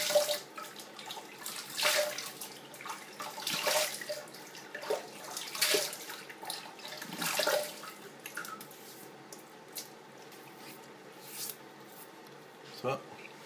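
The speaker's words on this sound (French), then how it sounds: "Rincer mon visage." Tap water runs and splashes in a bathroom sink as a face is rinsed during a traditional wet shave, heard as soft, uneven gushes and trickles at close range.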